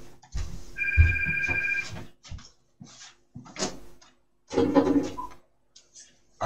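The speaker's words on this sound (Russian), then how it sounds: "телефон звонит городской" A landline telephone rings indoors, an electronic two-tone trill sounding in a short burst, followed by quiet gaps and a few soft knocks and shuffles.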